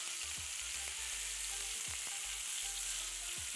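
A beef fillet steak fries in a pan with a soft, even sizzle and crackle, a low repeating hum beneath it, and no voices.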